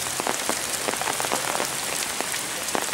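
Steady rain falls on a muddy municipal garden in Greece where people shelter in tents, a continuous close hiss with scattered sharper drops striking surfaces, no voices.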